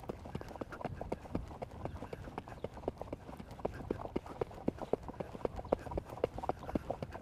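An Icelandic-style horse moves in a strongly accented tölt, its hooves making a rapid, even four-beat clatter that carries steadily at moderate distance over outdoor ambience.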